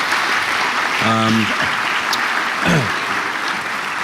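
Conference audience applauding panelists, dense continuous clapping from a large crowd at steady loudness, with brief tonal sounds and a voice rising over it partway through.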